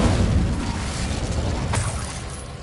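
A burst of magical fire from the Incendio spell in Hogwarts Legacy, a loud, dense rushing boom that flares and holds steady, with a brief sharp crackle about two-thirds of the way through.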